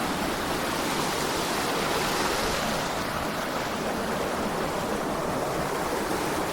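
A river flows beside a construction site in a Kenyan village, a steady loud rushing wash of water filling the whole clip with no voices over it.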